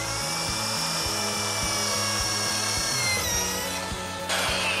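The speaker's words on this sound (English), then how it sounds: "place the undrilled side on the protruding stud, drill a bit through the hole," A power drill bores through a rubber snowmobile track to fit traction studs, its motor whining steadily and loud with pulsing bursts as the bit cuts, then shifting pitch near the end.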